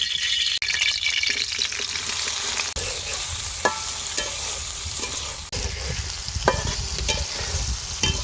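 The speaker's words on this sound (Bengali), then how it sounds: "দিয়ে দিব মশলা মাখানো শাপলা," Spiced water lily stems frying in oil in a wok, a strong continuous sizzle with scraping stirs and occasional clatter, loud and close, no voices.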